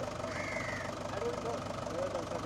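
Mahindra 585 DI tractor engine running steadily with an even, continuous mid-pitched drone throughout, close by, with a voice speaking over it.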